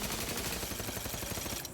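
Rapid automatic gunfire from a weapon in the video game The Outer Worlds, a dense, continuous burst of loud shots filling the whole stretch with no pause.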